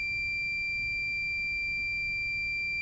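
A single continuous electronic beep from a test box checking an iPhone 7 Plus CPU short holds at one steady high pitch throughout, faint and unchanging, over a quiet background hiss.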